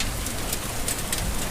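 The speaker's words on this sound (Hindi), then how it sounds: "छतरी पर पड़ते पानी की बूंदों की आवाज कितनी रोमांचक है।" Raindrops patter densely and steadily on an umbrella during a rain shower, a close, even hiss of drops with no voices.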